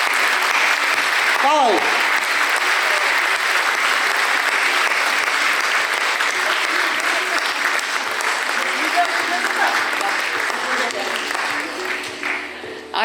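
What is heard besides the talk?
audience applause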